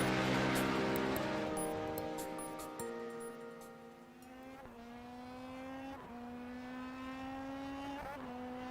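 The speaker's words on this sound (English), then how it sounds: "while the sound of engines echo around you?" Formula 3 race car engines in a sim racing game at Sonoma Raceway rev and whine through gear shifts, the loud high-pitched tone rising, dropping at each upshift and climbing again with no talk over it.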